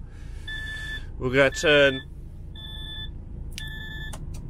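A DAF truck dashboard warning beeps for low air pressure and a trailer brake system malfunction, in short, repeated, high, even pips separated by gaps, with someone talking briefly over the cab's low engine hum.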